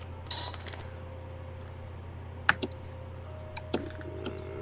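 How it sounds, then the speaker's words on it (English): Keys on a computer keyboard click while someone types chat in the online game Animal Jam: a few sparse, faint taps in small clusters over a steady low hum, with no talking. "Why are you typing it all in like one?"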